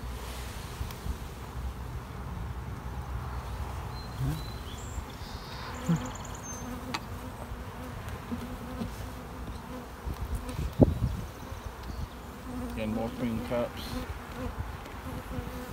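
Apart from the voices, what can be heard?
honeybees buzzing in an open beehive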